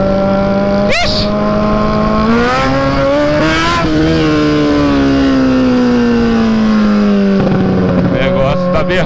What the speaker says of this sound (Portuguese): Tá berrando muito essa moto, tiozão.